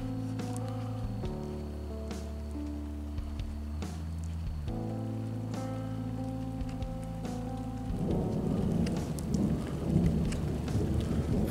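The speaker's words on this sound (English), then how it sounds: "then you hear the thunderclap." A thunderstorm in the California Bay Area on a hot day, with a low rumble of thunder rolling under steady rain and growing louder near the end, heard outdoors with no talking.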